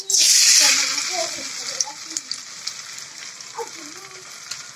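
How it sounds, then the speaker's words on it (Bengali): Amaranth leaf pakoras hiss into hot oil in a wok, a loud burst of sizzling at the start that settles into a steady, softer crackle with scattered pops, close up and free of talk. "এভাবে কড়াইয়ে যতগুলো দেওয়া যায় ততগুলো একবারে দিয়ে মিডিয়াম জাল রেখে ভেজে উঠতে হবে"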